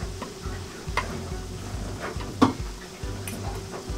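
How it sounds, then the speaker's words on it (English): Fresh-caught fish fry in a pan with a soft, continuous sizzle, broken by a few sharp clicks and small utensil taps, heard up close with no voices. "Fresh fish, 10 minutes from ocean to frying pan to mouth."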